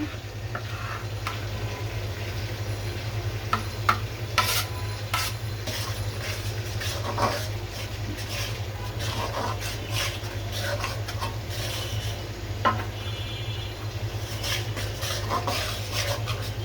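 Roast cooking in a pan with fried onions and onion paste, a low sizzle under frequent spoon clinks and scrapes against the pot, close and without speech.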